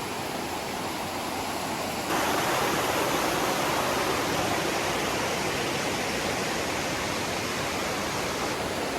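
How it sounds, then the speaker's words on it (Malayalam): Waterfall near Kodaikanal, a steady, loud broadband roar of falling water that runs unbroken from start to finish, swelling slightly after the opening seconds with no voices. "വെള്ളച്ചാട്ടം വെള്ളം ഒഴുകി പോണത് അപ്പുറത്ത് നല്ലൊരു വെള്ളച്ചാട്ടം"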